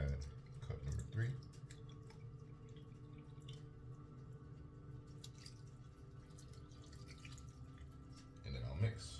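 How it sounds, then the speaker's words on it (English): Water trickles and drips steadily into a thick, clumpy banana bread batter at close range, with brief louder splashes near the start and end. "I only did 2 cups of water. So I add cup number 3."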